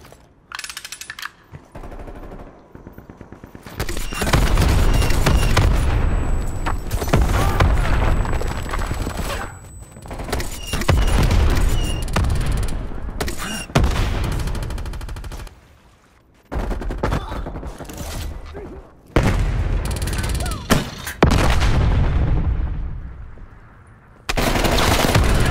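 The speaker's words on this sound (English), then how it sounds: "LMG here." Sustained bursts of light machine gun fire in Call of Duty: Black Ops Cold War, loud and close, with rapid rattling volleys broken by short pauses and a few quieter gaps.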